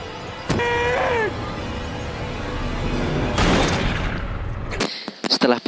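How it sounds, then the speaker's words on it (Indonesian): A single sharp gunshot cracks out near the start of a film scene from The Happening, followed by a voice, a rumbling crash, and a quick burst of several more shots near the end. "mengeluarkan sebuah senjata dan menembak Josh dan Jared tanpa banyak bicara."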